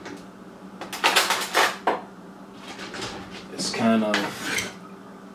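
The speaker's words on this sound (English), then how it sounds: "take your spoon and swirl it around a bit" A spoon clinks and scrapes against a bowl while swirling and pressing tamarind pulp, a few bright metallic knocks and scrapes in bursts, with a person briefly talking over the later part.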